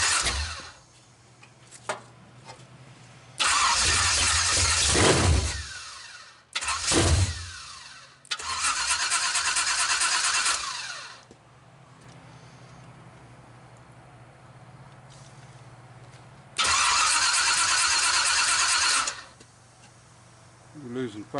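A 427 big block engine in a 1959 Triumph project cranks on its first start, with three long loud bursts of starter grinding and sputtering separated by quieter gaps and a low steady hum underneath.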